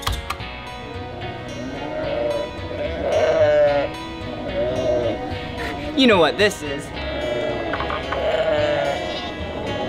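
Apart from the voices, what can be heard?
sheep bleating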